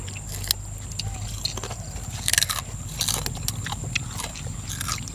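Crispy Thai pork rinds crunched while eating outdoors in the evening, with bursts of sharp crackling bites at irregular intervals over a low background hum.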